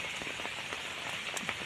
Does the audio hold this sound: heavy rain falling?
yes